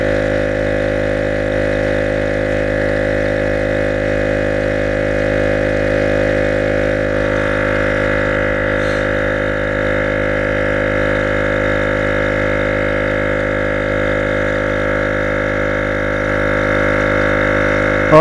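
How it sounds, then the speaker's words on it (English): EP AUTO portable tire air pump running while filling a car tire, a small piston compressor giving a steady close mechanical drone with a constant tone and no pauses throughout. "it's just this very small piston going back and forth to create the air pressure."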